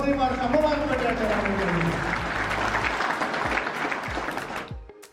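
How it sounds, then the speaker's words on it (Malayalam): A big audience at a business meeting breaks into loud, sustained clapping for the women present, holding steady for about four seconds and then quickly dying away into near silence. "ഒരു കൈയടി ആവട്ടെ നമ്മുടെ സഹോദരിമാർക്ക്, അമ്മമാർക്ക് വേണ്ടി."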